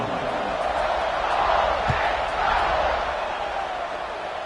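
Simulated stadium crowd in the College Football 26 video game, a dense, steady roar that swells briefly midway before settling.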